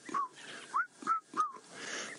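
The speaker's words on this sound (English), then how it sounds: "There's the red-chested cuckoo calling again," Red-chested cuckoo calling in woodland, four short whistled notes spaced evenly at moderate distance over a soft outdoor background, with no voices.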